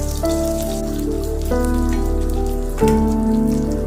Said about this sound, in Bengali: আর যে চেরা কাঁচা লঙ্কাটা ছিল সেটাও তেলের ওপরেই দিয়ে দেব।